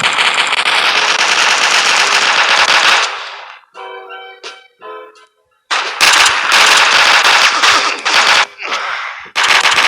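A P226 pistol fires in rapid, loud bursts in the mobile shooter game Coalition, with a brief quieter gap of clicks and mechanical clatter before the gunfire resumes in heavy volleys.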